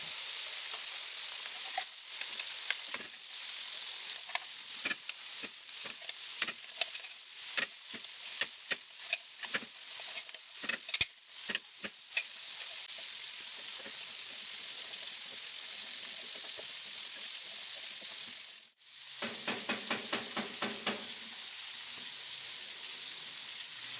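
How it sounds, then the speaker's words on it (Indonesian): Ground spice paste sizzles and fries in hot oil in a wok, a steady crackling hiss with irregular sharp pops and spatters throughout, briefly dipping before the sizzle resumes. "Di wajan satunya kita panaskan minyak untuk menumis bumbu yang sudah kita haluskan."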